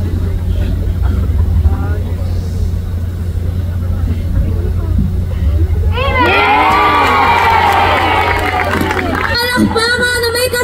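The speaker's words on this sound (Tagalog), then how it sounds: "Palakpakan na may kasamang sigawan!" Fans at a live fan event for a pop idol burst into loud, shrill screaming and cheering about halfway through, after a stretch of murmuring crowd noise and nearby chatter.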